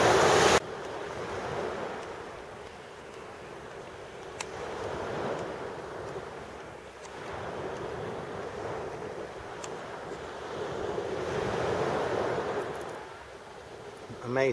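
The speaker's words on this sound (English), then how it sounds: "as you can see, the sound of the waves and the beauty of the sea." Sea waves wash steadily onto the shore at Oludeniz, a broad continuous surf roar swelling and easing over several seconds, with wind buffeting the microphone throughout.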